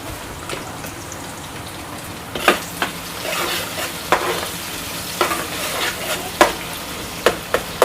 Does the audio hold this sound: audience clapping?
no